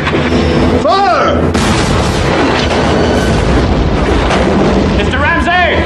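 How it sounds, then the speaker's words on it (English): Ironclad warship cannons booming in a film naval battle scene, with loud, dense blasts and roaring battle noise filling the whole stretch, with whistling and shouting mixed in. "Mr. Green, the captain says to clear your ports and commence firing."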